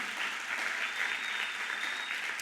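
Church congregation applauding at a seminar, a steady dense wash of many hands clapping that holds evenly from start to finish with no voices over it.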